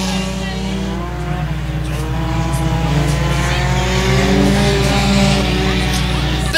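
Race cars roar around the dirt oval at Boyd Raceway as the leaders battle down the back straightaway, a loud, steady engine drone rising and falling through the whole stretch under a voice calling the race.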